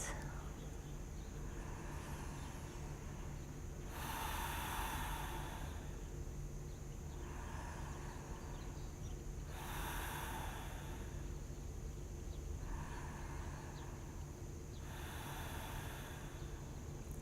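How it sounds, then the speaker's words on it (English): Slow, deep breaths during a yoga lower-back stretch, soft airy inhales and exhales recurring every few seconds, faint and close over a low background hum. "let's enjoy 3 deep breaths"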